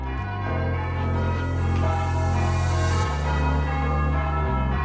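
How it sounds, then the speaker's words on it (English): A church bell tower in Dorchester rings out loud and steady, overlapping tones sustaining continuously with a change of pitch partway through. "I'm responsible for the bells and bell ringing at the church"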